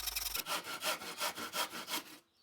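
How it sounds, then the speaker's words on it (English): A tenon saw makes shallow angled cuts across the top of a wooden pallet workbench leg, with about eight quick, even back-and-forth rasping strokes close up before the cut stops. "shallow angle cuts with your tenon saw will work just as well"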